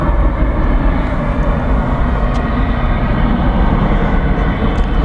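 A large American Airlines Boeing 787 Dreamliner jet at DFW Airport gives a steady, loud, broadband engine roar that holds at an even level throughout, with no talking.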